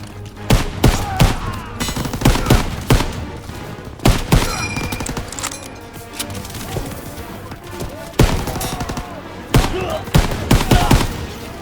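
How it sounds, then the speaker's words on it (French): Machine gun fire in Call of Duty WWII, a World War II battlefield scene, with repeated loud bursts and sharp individual shots crackling close by over a busy background of combat noise. "ces mitrailleuses tirent sur notre position"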